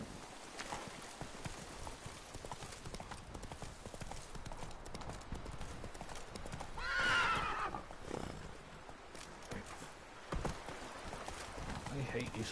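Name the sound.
horse Roach hooves and whinny, from video game The Witcher 3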